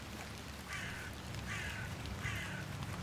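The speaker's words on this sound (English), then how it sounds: "Got a crow." Crow in the video game The Excavation of Hob's Barrow, three evenly spaced harsh caws over a low ambient background, fairly faint, with no talking.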